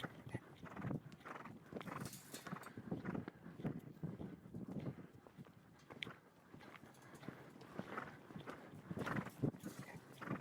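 Horse hooves clip-clop steadily at a walking pace, close and clear, with faint outdoor ambience behind them.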